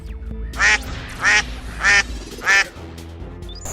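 A duck quacks four times in an even rhythm, each quack loud and nasal, over a low background rumble.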